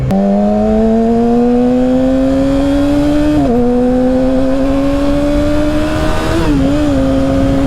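A Yamaha R6 sport motorcycle engine revving steadily upward in a loud, close, high-pitched whine, dipping briefly at two clutch upshifts before climbing again, with wind rush underneath.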